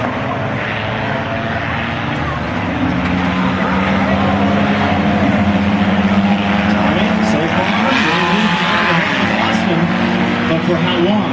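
Demolition derby cars at Irwindale Speedway roar continuously around the track at night, engines rising and falling under a commentator talking throughout.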